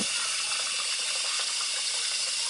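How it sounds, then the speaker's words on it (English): Tap water runs steadily into a cooking pot on a home stove while beef stew is prepared, a continuous close hissing splash filling the whole stretch with no talk over it. "I think that's enough water for now."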